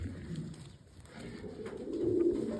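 Domestic pigeons cooing in a loft, soft low rolling calls rising toward the end, fairly quiet with a faint background hum.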